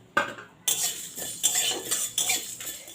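Whole spices dry-roast in a kadai: coriander, cumin, whole garam masala, cardamom, cloves, cinnamon and a dried chilli. A spatula scrapes and rattles them against the metal in close, uneven bursts, and no one speaks.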